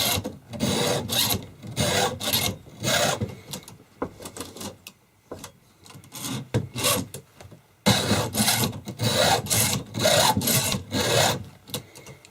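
A metal file rasps against chainsaw chain teeth in quick repeated strokes, guided by a precision sharpening guide, close up, with a short pause before the rhythmic filing resumes.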